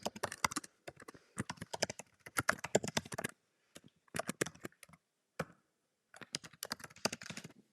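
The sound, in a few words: typing on computer keyboard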